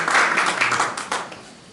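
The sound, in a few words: audience applause welcoming conference speaker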